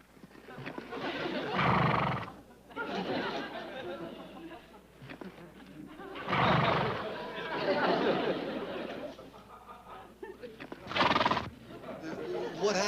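The horse Mister Ed gives several loud, shaky neighs and whinnies in separate bursts, spaced a few seconds apart, with people talking between and around them indoors.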